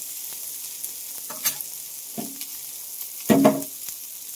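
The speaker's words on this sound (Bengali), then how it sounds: "একটু ভেজে নেব, তারপরে এর উপরে তখন আমি আলু দিয়ে নেব।" Potatoes frying in a little oil in a pan for a light fish curry: soft, sparse sizzle with a few stirring scrapes and clatters, the loudest near the end, otherwise quiet.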